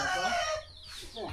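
A farm rooster and hens, with a loud nearby crowing call followed by softer clucking from the flock.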